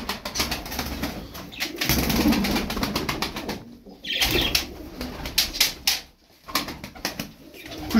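Playful pigeons coo in low, throaty tones while wings flap in sharp bursts nearby, the rustling flutters and calls overlapping through the whole stretch.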